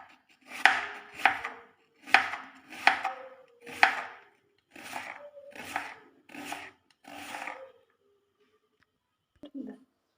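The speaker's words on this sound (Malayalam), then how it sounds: "ചെറുതായി സവാള അരിഞ്ഞു വെച്ചു." Onion being chopped finely with a knife on a board, a run of about nine crisp, evenly spaced chops, the first five sharper and louder, then softer cuts, followed by a short pause and one faint knock.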